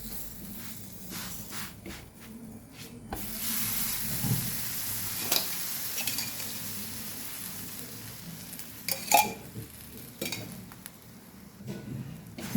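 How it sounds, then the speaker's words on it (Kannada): Flatbread dough sizzles on a hot griddle with butter or oil, a steady close hiss with occasional soft scrapes and taps, and no one speaking. "ಹೆಂಚು ಕಾದಿದೆ. ಸ್ವಲ್ಪ ಬೆಣ್ಣೆ ಬೇಕಿದ್ರೆ ಬೆಣ್ಣೆ, ಎಣ್ಣೆ ಬೇಕಿದ್ರೆ ಎಣ್ಣೆ ಹಾಕ್ಕೋಬೋದು."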